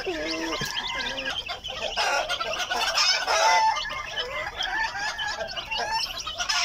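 Week-old to month-old chicks in covered cages give a dense, continuous chorus of high peeping and chirping, close and fairly loud throughout.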